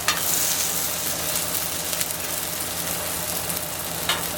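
Taro fritters sizzle steadily on a griddle, a continuous close frying hiss with light crackles and a few louder pops, no voices.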